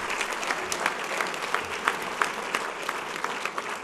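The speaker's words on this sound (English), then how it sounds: "Let's give them a clap at the hand." A banquet crowd at a Martin Luther King Jr. humanitarian awards event applauds steadily, many hands clapping in a dense, even patter at moderate volume, heard from a short distance.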